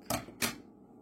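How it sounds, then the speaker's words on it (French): Two quick, crisp snips of scissors trimming a diamond painting canvas, close and alone with a short pause between them. "Puis là, je vais prendre mes ciseaux."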